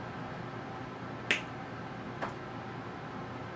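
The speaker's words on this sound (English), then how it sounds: "every time I snap my fingers" Two sharp finger snaps, about a second apart, crack against quiet room tone; the first is crisp and louder, the second softer.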